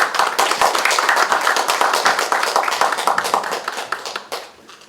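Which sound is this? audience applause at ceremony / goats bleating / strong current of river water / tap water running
audience applause at ceremony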